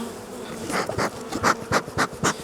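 Honeybees buzz loudly and close while being brushed into a hive during beekeeping, a dense droning hum that swells and pulses in rapid surges, with no talking.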